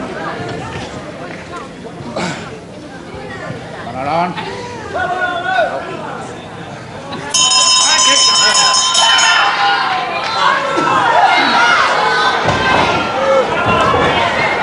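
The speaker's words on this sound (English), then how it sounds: "Al Kilby didn't realize the bell had gone" A bell rings out at a wrestling match, a Grand Prix belt semi-final rematch, its bright sustained clang cutting in partway through over a noisy crowd and a commentator talking.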